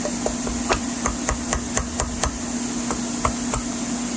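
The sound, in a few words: knocking a valve seal into place on a Chevy Vortec engine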